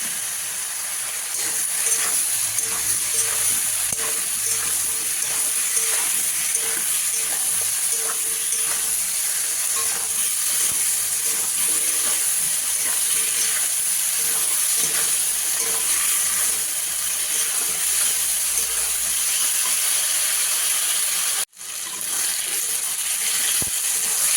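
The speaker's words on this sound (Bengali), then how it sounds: "নাড়াচাড়া করে এবার সবজিগুলোকে একটু ভালো করে ভেজে নেব" Vegetables frying with turmeric and salt in a pan, a continuous close hiss and sizzle with scattered stirring clatter, steady and loud throughout, briefly cut off near the end.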